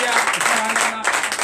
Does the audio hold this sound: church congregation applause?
yes